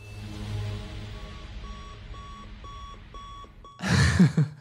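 An alarm clock in the Five Nights at Freddy's film gives a run of short, regular electronic beeps that ends in a sudden loud, harsh burst.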